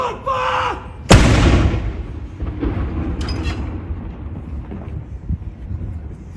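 A single heavy blast from a Royal Artillery salute gun at Edinburgh Castle, preceded by a shouted command, then a long rumbling echo that fades slowly under distant background noise.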